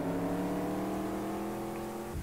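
A Molten M12 in Roblox Jailbreak accelerates on a drag run, its engine whine loud and steady, climbing in pitch over a couple of seconds with no talk.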